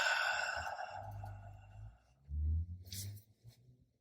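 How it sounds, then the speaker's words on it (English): A slow, soft breath exhaled through the mouth during an easy spa yoga breathing exercise, close and gentle, with a light breathy rush near the end. "and a slow breath out"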